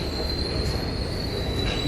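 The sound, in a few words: subway train leaving Park Place station, Manhattan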